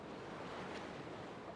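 Sea waves wash steadily around a small boat crossing open water in the video game Little Nightmares 2, a soft, continuous surf wash with a faint windy edge, low in level and without pause.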